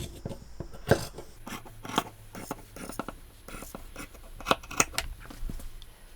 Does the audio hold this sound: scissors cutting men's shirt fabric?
yes